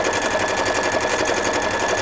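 A sewing machine runs steadily at speed, stitching silver thread over white fabric on a winter apron, its fast even needle rhythm loud and close with no voices.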